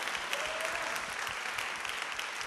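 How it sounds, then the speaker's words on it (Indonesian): Congregation at an evening church service applauding, a steady dense wash of many hands clapping throughout, loud and continuous without a break. "来，将掌声归给我们的神"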